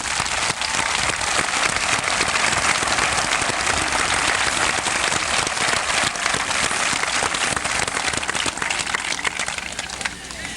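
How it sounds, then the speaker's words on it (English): Loud, continuous applause from an audience at an 1987 eighth grade graduation, thick and sustained for the whole stretch before tapering slightly at the end, with voices faintly mixed in. "Let's have a round of applause for the class of '87"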